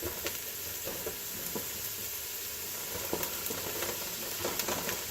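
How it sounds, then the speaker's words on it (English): Onions sizzling in a frying pan while cooking spaghetti sauce, a constant crackling hiss with scattered pops and small clicks, close by and without voices. "Let it sizzle, let it cook."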